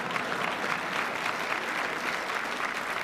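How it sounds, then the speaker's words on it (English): Steady, dense applause from a large crowd fills the whole stretch, even and sustained with no voices standing out. "just a round of applause for that"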